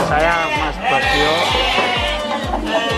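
Many goats bleating together on a goat fattening farm, overlapping wavering cries close by and continuous, with a voice talking among them.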